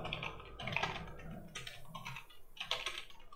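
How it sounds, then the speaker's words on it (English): A username typed on a computer keyboard during a Drupal install on Windows, with quiet, close clusters of key clicks in three short bursts separated by brief pauses. "I will type admin,"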